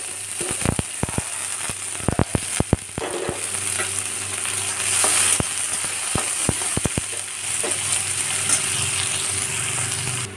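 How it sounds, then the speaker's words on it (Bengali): Chopped onion and cumin sizzle in hot oil with a steady crackling hiss, punctuated by sharp, rhythmic clicks of a spatula scraping and tapping the pan, close and alone. "পেঁয়াজটা লাল লাল করে ভেজে নেব"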